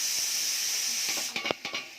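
Mung and masoor lentils dropped into mustard oil with fried onion give a steady hiss of sizzling, broken near the end by a few sharp stirring scrapes and clatters, close up and with no talk.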